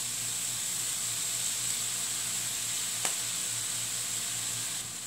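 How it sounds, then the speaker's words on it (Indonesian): Carrots stir-fry in a pan with a constant close hiss and sizzle, a low steady hum beneath, and one brief sharp clink from a utensil midway, with no voices. "Setelah itu kita masukkan wortel ya. Kita tumis."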